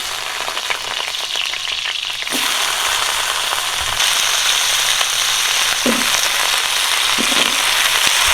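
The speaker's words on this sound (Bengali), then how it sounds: "সরষের তেল, তেলটা গরম হয়ে গেছে, এই যে আলুটা দিয়ে দিই" Potatoes dropping into hot mustard oil for a mutton curry set off a loud, steady sizzle that suddenly intensifies and keeps frying with crackles and small pops, with no talk over it.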